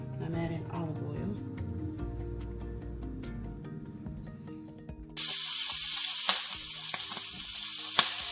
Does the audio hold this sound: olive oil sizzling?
yes